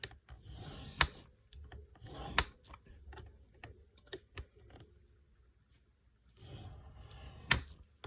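Cardstock is scored on a scoring board for a mini album, giving quiet scraping rubs broken by several sharp clicks and taps as the paper is moved and creased, close-up and faint.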